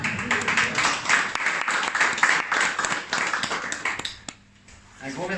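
A crowd claps in a dense, steady burst of applause with voices mixed in, then it breaks off abruptly into near quiet before a voice resumes.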